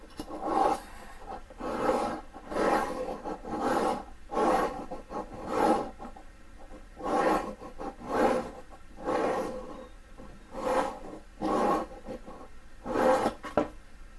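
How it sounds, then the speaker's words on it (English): Knife blade drawn back and forth through a ceramic sharpener slot, a steady series of about a dozen rhythmic raspy scraping strokes, close and moderately loud. "I can feel a little bit of it sharpening that"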